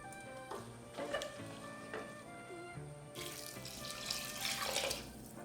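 About one and a half cups of water pour into a pot of soaked rice for a prawn pulao, a steady splashing stream that runs quietly and swells louder toward the end.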